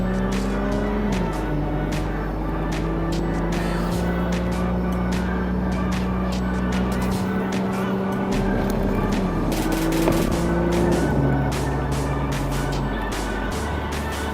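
A 2018 Audi S5 Quattro coupe drives in Tiptronic mode, its engine droning steadily with pitch steps as gears change, heard from inside the car at a constant loud level.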